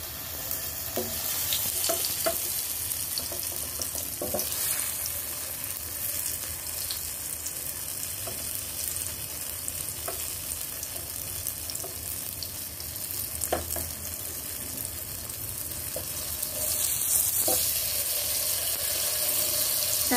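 Tofu fries in oil over low heat, a steady, close sizzling and crackling that runs throughout with occasional louder spits and pops, and no voices.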